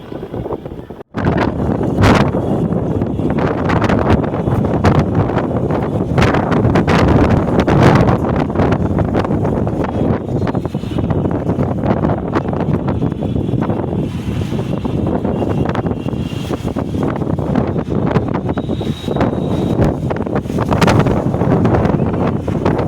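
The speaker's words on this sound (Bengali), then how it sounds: "ভীষণ হাওয়া দিয়েছে, খুব মজা লাগছে" Strong wind from a Baishakhi storm buffeting the microphone in loud, continuous roaring gusts that barely let up.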